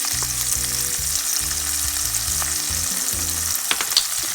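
Ingredients for a pork chop stew fry in a pot with a loud, steady sizzle and crackle close by, while a low rhythmic humming pattern runs underneath.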